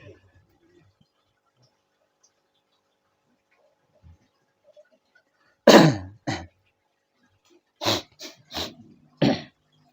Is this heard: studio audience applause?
no